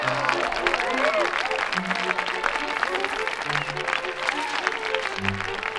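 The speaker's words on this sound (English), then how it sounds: "the cheers of the crowd went to Hobart's head" A crowd cheers in the Wonderbook: Book of Spells game, a dense, steady roar of applause and voices kept up throughout, with whooshing and chiming magical effects over it and a narrator talking on top.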